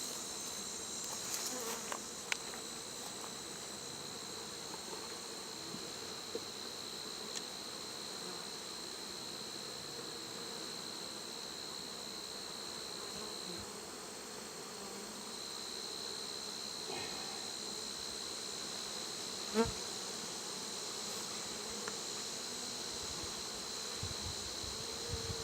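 Honey bees buzz during a beehive inspection, a steady, fairly quiet hum that fills the background, with a few faint clicks and handling noises.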